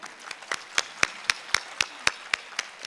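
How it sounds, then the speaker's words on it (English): Slow, evenly spaced claps at a school Harshotsav event, about ten single sharp hits in a steady rhythm rather than a full crowd applause. "Give him a clap"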